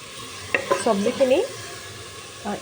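Soft sizzling of vegetables frying in a pan with a few stirring scrapes, while a person speaks briefly over it.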